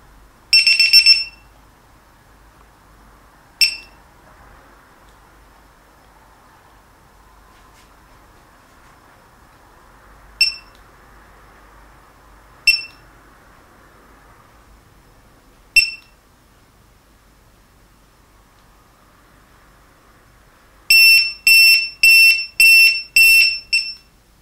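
An AOK 4-in-1 ESC servo tester's buzzer sounds in sharp, loud electronic beeps: a short burst, then isolated single beeps spaced seconds apart, and finally a rapid run of about five beeps, over faint background hum.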